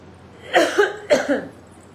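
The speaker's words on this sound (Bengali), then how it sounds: "এসির বাতাসটা ডিরেক্ট লাগাই কাশি আসতেছে" Two close coughs from one person, each a short double burst, loud and near against a quiet background.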